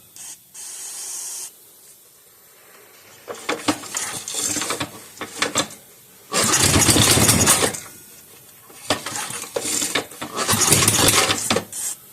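A cleaned and reassembled Bolens rototiller engine, with diesel in the cylinder, is cranked with several separate sputtering, hissing bursts of several seconds each with gaps between, loud and close, with no talking.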